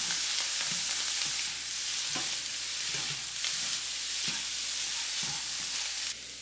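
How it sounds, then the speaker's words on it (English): Mixed vegetables and jasmine rice fry in a pan with chicken andouille sausage, a steady close sizzle broken by soft scraping strokes of a spoon stirring through the mixture, with no talking. "Stir that around."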